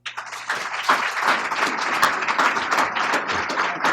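An audience applauds warmly to welcome Vice President Joe Biden at a nuclear security event at Carnegie, with steady sustained clapping filling the hall from start to finish.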